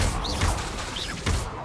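Incendio fire spell cast in the Hogwarts Legacy video game: a dense roaring blast with two rising whooshes and heavy impacts, loud and close throughout.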